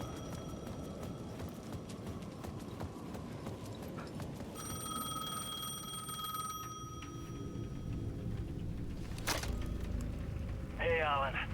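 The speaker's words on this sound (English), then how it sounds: "The payphone at the edge of the plaza was ringing again." Payphone at the edge of a plaza ringing in the Alan Wake 2 video game, an electronic bell tone repeating over a dark droning ambience, followed by a brief clatter and a short trill near the end.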